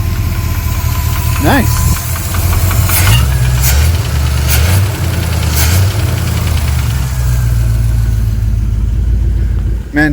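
A truck engine turns over and settles into a loud, steady idle with a low, even rumble and some knocking. It runs close by, and a voice says a brief word over it.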